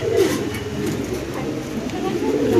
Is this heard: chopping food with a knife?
no